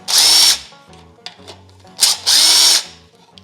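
Power driver running in short bursts on the 1/4 inch screws of an Ariens snowblower, with two loud whirring runs and light clicks and clatter between them, close up and with no talking.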